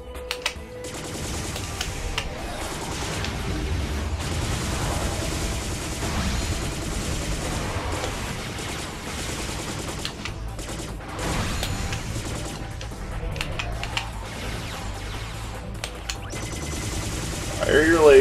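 Laser and missile fire in the video game P.N.03 crackles in rapid bursts of shots at a moderate level, continuing steadily beneath a voice that talks throughout.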